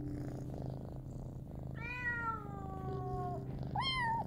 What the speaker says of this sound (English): Just a few cat noises there so you don't get startled by this interruption